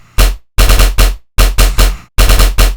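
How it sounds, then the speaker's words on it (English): A synthesized tearout machine-gun bass with comb filtering fires in loud, rapid stuttering bursts, grouped in tight clusters separated by short silences, heavy in the low end with no voices. "This is going to give us the amazing tone that this machine gun bass is."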